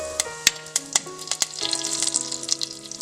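Mustard seeds and curry leaves sizzle and pop in hot oil in a pan, sharp crackling bursts over a steady frying hiss that thickens toward the end.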